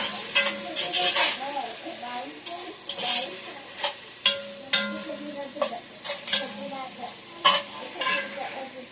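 Beef and Lipton soup mix cook in a pot, with repeated scraping stir strokes over a steady sizzle, close and moderately loud.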